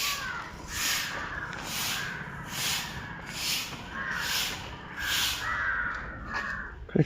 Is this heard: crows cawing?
yes